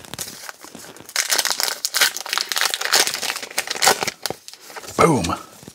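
A retail pack of 2022 Topps Gypsy Queen baseball cards is ripped open up close, with loud crinkling foil wrapper, tearing bursts and rustling. A brief voice comes in near the end.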